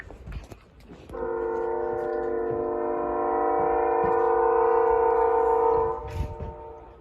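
A BNSF intermodal freight train passes close by with a loud sustained multi-tone horn blast lasting several seconds, then rumbling fades as brief talk resumes.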